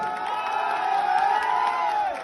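A crowd at an outdoor political rally cheers and shouts in a loud sustained roar with whoops, and a few claps blend into the din.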